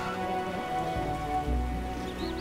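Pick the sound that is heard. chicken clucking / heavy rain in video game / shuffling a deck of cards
heavy rain in video game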